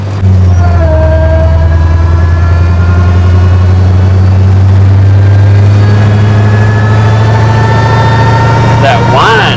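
A Hellcat-swapped 1972 Dodge Demon runs close and loud, its deep engine rumble topped by a rising supercharger whine that climbs steadily in pitch over about nine seconds, with a brief burst of voices at the end.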